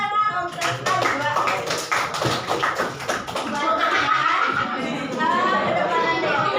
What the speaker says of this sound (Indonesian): Boleh tepuk tangan untuk Najwa.